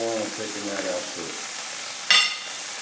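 Chicken sizzles steadily in a pan with garlic, a close continuous frying hiss, with a brief sharper spatter near the end and some faint voiced sound early on.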